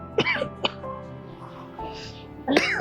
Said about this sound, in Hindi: पता नहीं कैसे खांसी हो गई तुम्हारे को